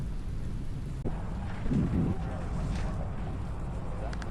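Thunderstorm at a Florida boat ramp: steady heavy rain and wind hiss with a low rumble of thunder swelling briefly midway, continuous and fairly close, no voices.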